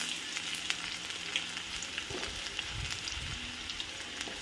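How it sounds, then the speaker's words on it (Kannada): Ridge gourd frying in oil in a pan for gojju, a soft, constant sizzle close by with a few faint stirring scrapes and no voices. "ಇದು ಫ್ರೈ ಮಾಡ್ಕೊಳ್ಳೋಣ"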